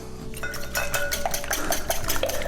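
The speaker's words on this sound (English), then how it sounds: "I'm going to start out with 8 eggs, and you're going to whisk them" Eight eggs being whisked in a bowl for a maple bacon French toast bake, a rapid run of clinking utensil strikes against the bowl, close and fairly loud, with no talking.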